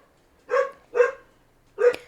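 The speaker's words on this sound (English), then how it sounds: "Sorry for the dogs barking." Dogs barking indoors, three separate loud barks spaced out with short pauses between them, each one fairly close.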